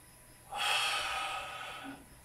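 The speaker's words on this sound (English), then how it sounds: "See that type of breathing, that's energizing." A meditation teacher demonstrates forceful, energizing breathing: one strong, sustained breath rushing through the nose or mouth for about a second and a half, close and clear, with no talking.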